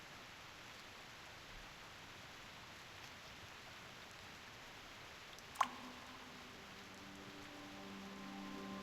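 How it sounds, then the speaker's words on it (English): Soft, steady rain falls in the video game Reverse: 1999, a faint even hiss with one sharp click partway through and a quiet tone rising afterward. "Go ahead and touch the raindrops."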